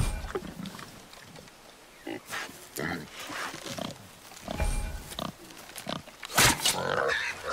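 A wild boar grunts and snorts in God of War, rough bursts scattered among game effects and voices, ending in a loud squeal.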